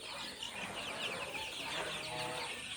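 Sonali hens cluck softly in a poultry shed during cold weather. The clucks are faint and scattered under a steady, distant background hum.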